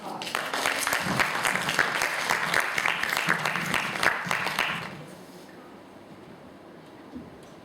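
Audience applause for a contestant at a middle school English speech competition, dense and fairly loud for about five seconds before it stops abruptly and quiet room tone remains.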